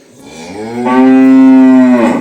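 A three- to four-month-old calf gives a single long, loud moo up close. The call swells and holds, then climbs in pitch near the end.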